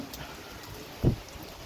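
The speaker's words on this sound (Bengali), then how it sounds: "এই সিলেট নগরীতে মুসলধারে বৃষ্টি হচ্ছে দমকা হাওয়া বয়ে যাচ্ছে" Heavy downpour over Sylhet city during gusty weather after a heatwave, a faint steady hiss of rain with one soft thump near the end.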